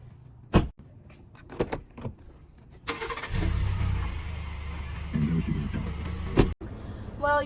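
A car starts with a few clicks and thumps, then its engine turns over and idles at a medium rumble for several seconds before a door-like thud ends it, with a voice speaking faintly.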